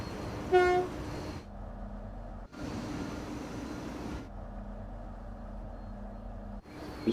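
A Southeastern high-speed train in Train Sim World 2 rolls along with a steady mechanical rumble, a short horn toot near the start, and two abrupt cuts where the sound drops to a quieter cab hum before resuming.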